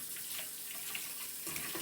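A sink tap runs steadily as hands are washed under the water, a continuous close splashing hiss with slight shifts in the flow near the end.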